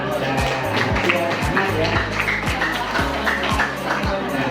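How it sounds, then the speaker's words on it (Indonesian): High school students at an orientation session clap their hands in a steady, rhythmic beat of about two claps per second, loud and close, with a low hum underneath. "Ya, tepuk tangan."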